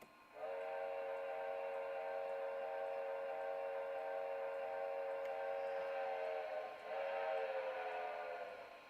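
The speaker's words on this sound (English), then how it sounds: "So with the sounds, we got a really cool whistle." A model train's whistle blows one long, steady chord-like blast at close range. It is loud and sounds alone, with a brief dip near the end before it sustains again and fades.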